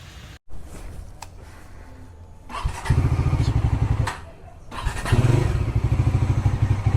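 Motorcycle engine running on a ride from Nashik towards Ellora and Aurangabad, quieter at first, then revving louder in steady pulsing bursts with a brief dip midway, close and continuous.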